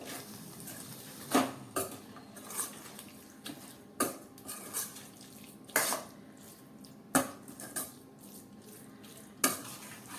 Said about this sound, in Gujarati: તુવેરના દાણા એડ કર્યા પછી આપણે સારી રીતે સૌથી પહેલાં મિક્સ કરી લઈએ